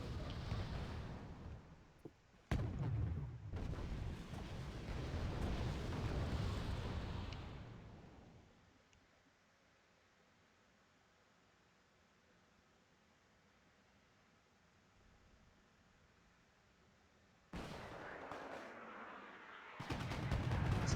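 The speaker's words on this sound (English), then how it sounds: "so we can expect artillery well and through to the end of the match at this point" Artillery fire in the Cold War strategy game Wargame: Red Dragon: heavy rumbling blasts and sustained roaring barrages, loud at first, fading to a long low lull before fresh booming impacts return near the end.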